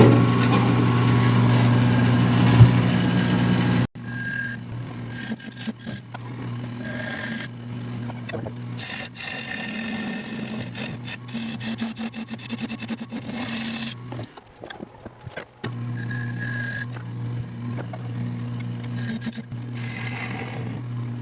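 A woodturning lathe cuts a recess into the base of a wooden bowl. A steady motor hum gives way to rough, continuous scraping and rasping from the tool on the spinning wood, with short breaks between passes.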